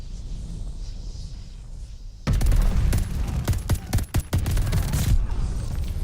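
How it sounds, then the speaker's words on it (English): Rapid automatic gunfire from a hip-fired gun in Call of Duty battle royale, a dense burst of shots with sharp individual cracks and booms, loud and close, following a quieter ambient stretch. "He hip fired me."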